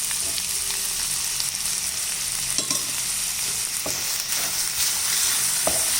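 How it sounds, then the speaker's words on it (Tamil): Chopped tomatoes and masala fry in a hot pan for prawn curry, giving a loud, continuous sizzle broken by occasional stirring scrapes and taps. "நல்லா ஃப்ரை பண்ணிக்கிட்டோம்"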